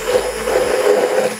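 A food processor grinding cheese and garlic seasoned with garlic powder and salt for mac and cheese: a steady, loud motor whir with a grating buzz, running alone for about a second and a half.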